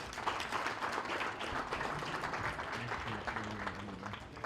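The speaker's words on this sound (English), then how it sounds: "Give him another round of applause" Audience applause for a contestant at a popsicle-stick bridge building competition, a dense steady wash of clapping from a crowd lasting throughout, with some voices mixed in.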